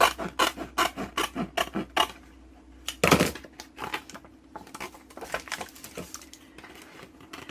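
Scissors snip around laminated paper images by hand, with a quick run of close, crisp cutting strokes, a louder crinkling rasp, then softer scattered trimming sounds.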